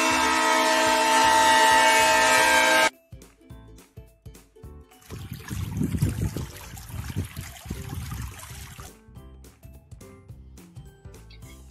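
Loud train horn blaring steadily for about three seconds, then cut off and followed by a quieter passage of running water that swells and gurgles and fades near the end, with no voices.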